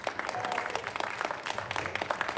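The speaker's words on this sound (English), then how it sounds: "give a big round of applause for Leanora here" A conference audience at DDD Brisbane applauds to welcome a speaker, a crowd of hands clapping steadily at moderate volume with distinct individual claps standing out and no talking.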